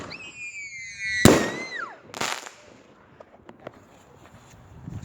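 Fireworks go off outdoors: whistling rockets rise in several streaks, then a loud sharp bang is followed by a second burst and a scatter of faint crackling pops that fade out.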